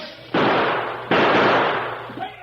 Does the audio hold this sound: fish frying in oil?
no